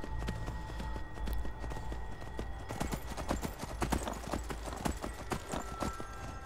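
Steady rhythmic clip-clop of horse hooves trotting on a hard path in the video game Skyrim, close and continuous, with a faint hum in the background.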